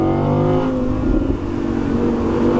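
An Audi R8 V10 Performance engine revs hard under acceleration on Alpine roads, a loud, steady, rising drone with strong harmonics that dips briefly before pulling on.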